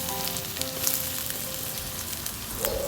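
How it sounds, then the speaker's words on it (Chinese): Garlic stir-frying in hot oil in a wok, a steady loud sizzle with a brief flare of crackling near the end, no voices. "我们先炒一下我们的大蒜。"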